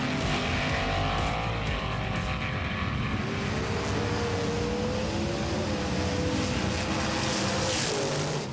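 Race cars in a competitive battle drive on a track, their engines whining and droning loudly, with pitch sweeping up and down as they pass, a dense continuous roar without talk.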